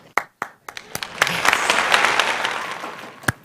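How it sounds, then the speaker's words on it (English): A round of applause at a golf awards evening: a few scattered claps swell into sustained clapping from a small group, then fade to one last clap, close and without talk. "a big round of applause"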